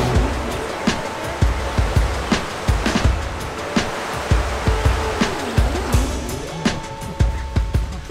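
A river rushes through a rocky canyon in Banff National Park, a steady close-up roar of water that never lets up, with regular light knocks like footsteps on a walkway and a faint wavering tone drifting above it.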